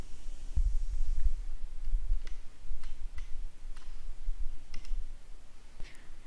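Light computer mouse clicks, sparse and spaced about a second apart, sit over a low steady hum with no talking.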